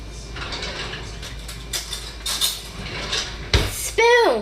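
A spoon and other cutlery are handled in a kitchen, with scattered light clinks and scrapes building to a sharper clatter near the end, followed by a brief ringing tone.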